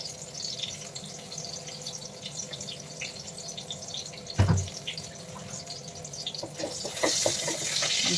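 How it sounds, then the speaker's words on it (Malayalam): Water from a jar poured into a cooking pot of sambar, a continuous splashing, gurgling flow with a brief louder knock midway and a brighter rush toward the end, close by and without talk. "ഒരു ജാറിലുള്ള വെള്ളമൊക്കെ ഒഴിച്ചു കൊടുത്തു തിളക്കട്ടെ"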